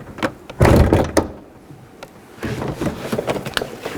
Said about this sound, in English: Now we're just going to grab the door and raise it up and slide it out.